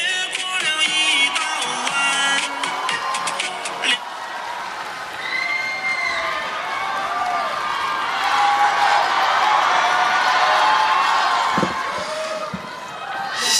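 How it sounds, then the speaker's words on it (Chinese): Live audience at a crosstalk comedy show featuring Yue Yunpeng and Sun Yue applauds and cheers: dense, sustained clapping and crowd noise filling the room throughout, loud and steady. "谢谢，感谢大家的热情掌声，谢谢。"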